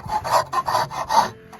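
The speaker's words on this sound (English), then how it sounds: "I'm gonna thin it down a little bit more with the rasp" A rasp files down a wooden handle for a hand-forged throwing axe, six or seven close, rough rasping strokes in quick rhythm, loud and near with no talking.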